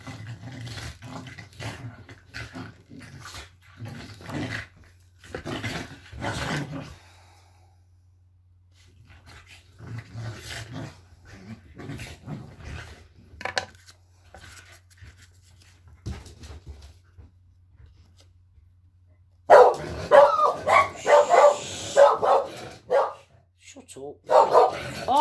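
Excited dogs bark and growl in bursts, loud and close, mixed with people talking and a long lull in the middle, then erupting into a dense, rowdy run of barking near the end.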